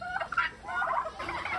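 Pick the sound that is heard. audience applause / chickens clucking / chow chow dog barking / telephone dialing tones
chickens clucking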